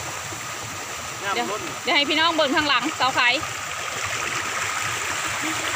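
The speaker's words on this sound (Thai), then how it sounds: "น้ำล้นท่อลงมาจ้า" Steady rushing water overflows from a pipe, pouring and splashing continuously close by, with someone talking briefly over the flow in the middle.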